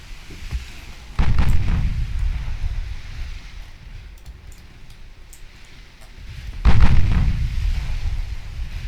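Super heavy cruiser guns firing in Ultimate Admiral Dreadnoughts: two heavy, rumbling booms several seconds apart, each swelling and slowly fading over a low windy background.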